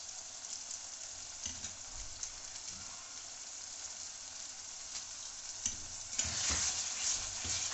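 Spices with Everest masala frying and being stirred in a pan for a vegetarian potato biryani, a steady close sizzle with spatula scrapes that grows louder near the end.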